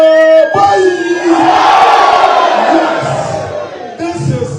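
A large crowd of delegates at a political gathering in the Chiana-Paga Constituency roars and cheers loudly and continuously, with yells and whoops swelling into a sustained wall of noise before tapering slightly.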